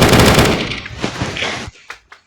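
A rapid burst of automatic gunfire from a Minecraft gun addon, loud and close, then trailing off into a few scattered, fainter shots.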